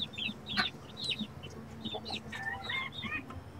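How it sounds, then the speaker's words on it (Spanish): Hens and chicks at a poultry farm cluck and peep, with many short high chirps overlapping lower clucks at close range and no talking. "Estas son puras pollitas."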